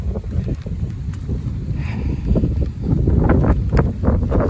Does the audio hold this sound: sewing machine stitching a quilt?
no